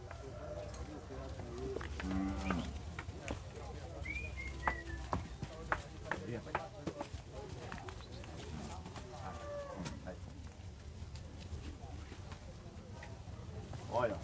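Cattle low at a livestock fair in Vila São José, Panelas, Pernambuco, a brief moo rising from a busy background of crowd chatter, people talking and scattered animal and handling noises.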